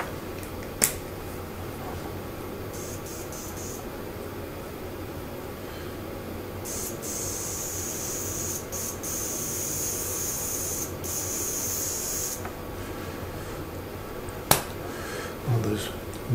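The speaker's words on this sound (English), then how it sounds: "There's virtually no air coming out of the airbrush at all." A Badger 200 airbrush in need of cleaning, with almost no air coming through, gives faint, uneven hissing and sputtering in on-and-off stretches, with a few sharp clicks and no talking.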